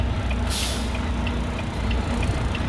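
A truck's air brake releases with one loud hiss of escaping air, heard close over the steady rumble of the idling tandem-axle rig.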